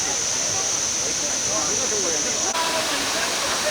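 Kuang Si waterfall pouring into turquoise pools, a dense, steady roar of falling water close by with a faint high whine above it.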